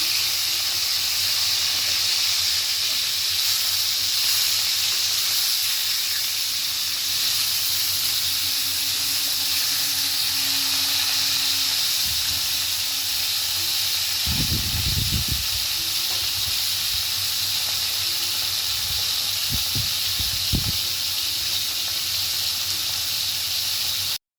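Fish fries in hot oil in a home kitchen while a papaya curry is being made. A steady bright sizzle and hiss runs throughout, with a few low knocks and clatters from the pan partway through.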